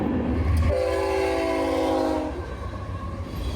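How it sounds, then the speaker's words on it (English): A long freight train rolls past close by with a steady rumble, and its horn blares in one sustained blast before the rumble continues alone. "I didn't know the trains were that long"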